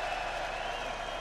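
Manchester boxing crowd applauding and cheering a fighter after a ten-round bout, a dense roar of clapping and voices, steady and loud.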